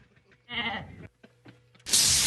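A sheep bleating sound effect plays over radio, a few short nasal bleats followed by a louder, harsher burst at the end, with no talking over it.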